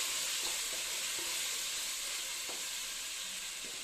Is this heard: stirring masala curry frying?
yes